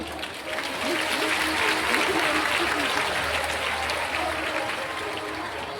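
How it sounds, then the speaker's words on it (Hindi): A large audience claps continuously and loudly at a Hindu religious discourse, a dense, even wash of applause held for several seconds. "आप भी चाहे तो ताली बजा सकती थी"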